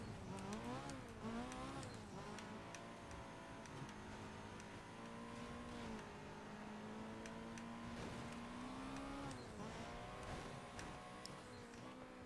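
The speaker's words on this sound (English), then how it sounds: "Why is that Subaru making a V8 sound?" A Subaru in Need for Speed carrying a V8 engine sound, a low, steady burble that climbs and dips as the revs change over about twelve seconds, quiet and alone.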